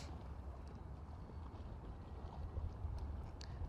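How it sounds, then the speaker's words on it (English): Cold, biting winter wind on the Holderness coast, a steady low rumbling roar buffeting the microphone, fairly quiet and continuous with no voices. "That wind's picking up now from right to left."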